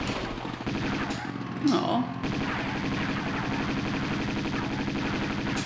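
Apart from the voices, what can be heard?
gunfire from Lara Croft shooting in video game Tomb Raider II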